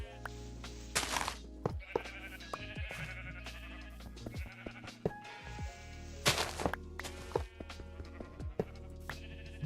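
Repeated sheep bleats in Minecraft sound out several times over a steady game backdrop with thumps and footsteps, the bleats loud and near and no one speaking.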